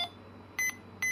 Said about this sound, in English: This beeping isn't annoying in the slightest.